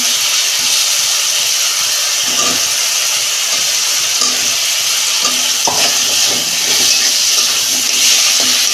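Water and potatoes go into a hot pan while a home-style fish curry cooks, giving a steady loud sizzle and steamy hiss with soft stirring scrapes throughout, and no talk.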